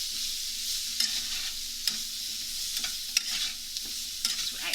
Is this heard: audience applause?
no